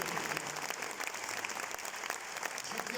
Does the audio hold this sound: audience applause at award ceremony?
yes